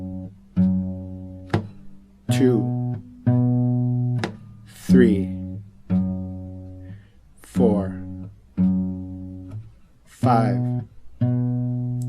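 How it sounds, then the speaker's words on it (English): Guitar bass notes of a standard 12-bar blues are played in a syncopated rhythm, with clear plucked notes in repeated short groups while a voice counts along between them. "play the bass notes for standard 12-bar blues using the rhythm of this song, the syncopated rhythm"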